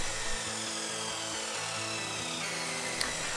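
A mitre saw cuts wooden ladder slats for a tiny house loft: a steady, loud motor whir with a rough grinding edge as the blade runs through the wood, continuous and close.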